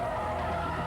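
A black car skids out of control across an intersection into a crosswalk after a truck hits it, a loud, continuous tire-on-pavement scrape and roar lasting just under a second with no voices.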